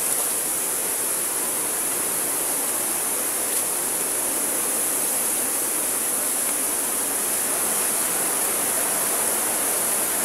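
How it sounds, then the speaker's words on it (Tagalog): Payaran Falls waterfall, a steady, loud, unbroken roar of rushing water that stays constant throughout, close by and heard alone without any talking. "Ito na yung Payaran Falls."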